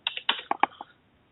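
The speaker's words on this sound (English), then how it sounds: "I'm going to attempt to put in Dr. Meldrum's phone number here" Keys tapped on a keyboard to enter a phone number: about six sharp, quick clicks in an uneven rhythm, close and clear, then silence.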